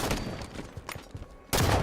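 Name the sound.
gunfire in a video game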